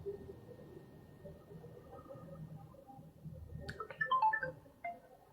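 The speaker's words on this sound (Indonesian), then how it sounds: "Sebentar guys, ada telepon." An incoming call on a phone produces a short series of electronic ringtone chirps near the end, following a stretch of quiet low background murmur.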